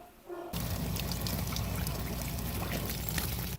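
Water rushes loudly and steadily through household plumbing as the supply is turned back on, spraying and leaking from a PVB (pressure vacuum breaker) valve, starting abruptly after a brief quiet moment and continuing without pause.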